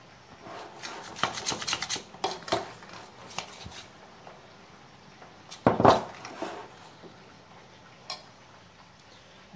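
Butter and icing sugar are mixed in a deep dish, with uneven scraping and tapping of a utensil against the dish in short bursts, a louder clatter near the middle, and quiet stretches between.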